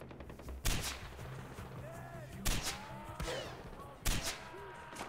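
Gunfire in the video game Far Cry 4 on a sniping map, three sharp reports a second or two apart with fainter game sounds between, and a player talking over it.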